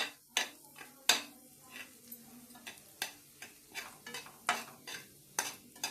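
Egg rice stirred in a pan, a spoon scraping and clinking against metal in irregular strokes, a dozen or so sharp taps and scrapes close by over a quiet background.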